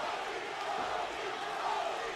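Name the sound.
boxing crowd chanting Rocky for Martinez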